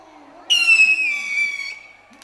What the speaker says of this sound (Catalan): petards de totes mides i colors i, sobretot, coets.